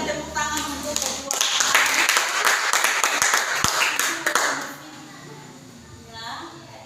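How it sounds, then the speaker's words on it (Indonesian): A classroom of students claps together, a dense burst of hand claps that lasts a few seconds and then tapers off, with a teacher's and children's voices around it. "Kita berikan tepuk tangan untuk kedua."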